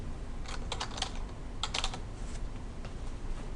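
Fingers tap a computer keyboard in a few quick bursts of clicks, close and clear over a low room hum, with no talking.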